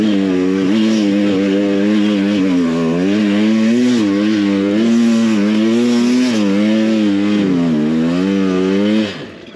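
An enduro dirt bike engine revving close by, loud and buzzy with repeated rising and falling surges over a steady idle, ending with a sudden drop at the end.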